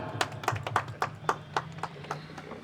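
An Independence Day ceremony audience claps after a flag-hoisting invitation: sparse, distinct hand claps in a loose, irregular rhythm, fairly faint and slightly distant, with a soft hum underneath.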